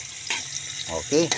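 Onion and garlic sautéing in a pan, a short burst of sizzling and stirring scrapes with a couple of louder hisses as the pan is worked, and a voice speaks briefly over it.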